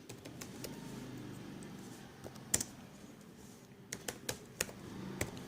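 Fingers type on a computer keyboard in quiet, uneven bursts of clicks and key taps, fairly close, over a low background hum.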